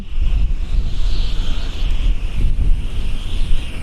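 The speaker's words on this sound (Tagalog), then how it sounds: "Hangin yon." Wind gusts loudly beside a river by a bridge at night, a continuous rushing roar with heavy low buffeting against the microphone and a steady hiss above, with no voices.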